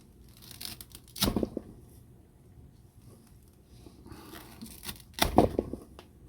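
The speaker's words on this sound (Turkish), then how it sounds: "size şurada duran halatı da bir keseyim. Bıçakla." Rope is cut with a Leatherman ARC multitool's MagnaCut steel knife blade, two distinct fibrous slicing rasps a few seconds apart, each with a brief tearing crunch, close and fairly quiet against soft handling noise.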